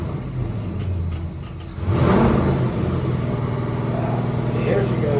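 A Doug Rippie LT1 383 V8 on an engine dyno rises from a steady idle into a loud, sustained rev that holds a throaty mid-range roar, with a voice briefly present beneath the engine noise.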